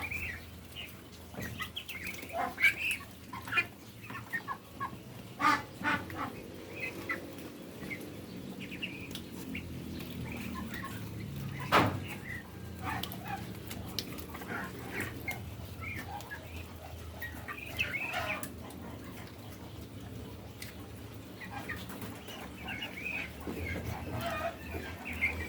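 Muscovy ducklings feed and drink on a farm, giving a steady, busy chorus of small peeping calls and occasional clucks, close by, with light rustling and no talk.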